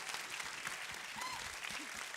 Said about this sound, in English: join me in giving another round of applause to Murray Lachlan Young